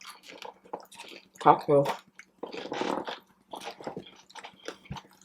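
Frozen coconut shrimp chewed close to the mic in soft, wet crunches and squishy bites, scattered in bursts between talk.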